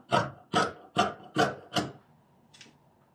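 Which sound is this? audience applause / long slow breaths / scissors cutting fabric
scissors cutting fabric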